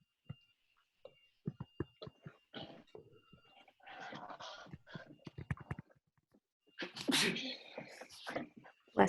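A single sneeze in a classroom lesson, a sharp burst near the end after scattered quiet clicks, breaths and soft murmured speech.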